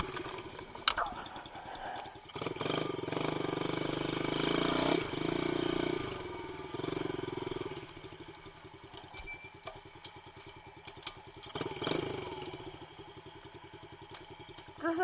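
A dirt bike engine revving and droning as it is ridden and lifted into wheelies outdoors, a steady buzzing roar that rises and falls in bursts and holds strong through much of the stretch.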